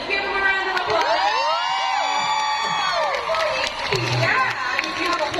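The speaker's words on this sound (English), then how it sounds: "Let's give them a round of applause." An arena audience at a Junho fan meeting in Manila cheers and screams in shrill, sustained waves, with scattered clapping mixed in and voices rising over the noise.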